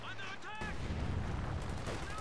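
MG34 machine gun fire in a World War II strategy game battle with Fallschirmjäger troops, a dense rumbling stream of rattling shots and distant blasts that starts after a brief voice and runs on moderately loud.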